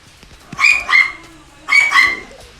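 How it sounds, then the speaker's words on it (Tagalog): A dog barks in two quick pairs of sharp, high yips, fairly close, with a short pause between them and quiet in the background. "Yan, aso namin. Nagtataho lagi."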